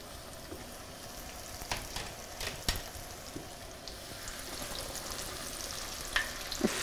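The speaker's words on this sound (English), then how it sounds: "there's like a nice light fry going on here" Steady, gentle sizzling of chicken frying in hot oil, with soft crackles and a few sharper pops scattered throughout; no voices.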